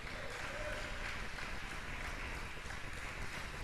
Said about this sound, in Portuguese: Você pode aplaudir ao Senhor pela sua palavra,